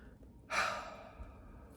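A single heavy breath close to the microphone, a loud breathy exhale that fades over about a second in an otherwise quiet room.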